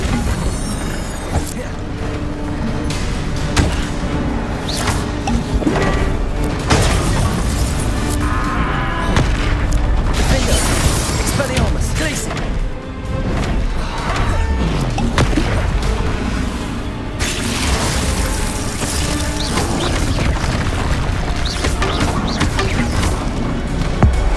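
Spell combat in the video game Hogwarts Legacy, with dense, loud booms, blasts and mechanical clatter layered over a continuous game soundtrack for the whole stretch.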